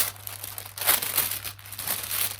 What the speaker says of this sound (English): It's in cellophane, so it rustles more than plastic.